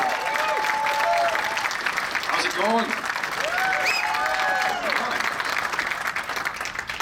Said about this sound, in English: Clap it up for Walter.